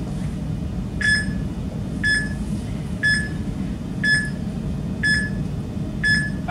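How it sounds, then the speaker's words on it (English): Workout interval timer during a dumbbell session, emitting short electronic beeps at a steady once-per-second rhythm, six in a row over a constant low background hum. "30 seconds on the timer."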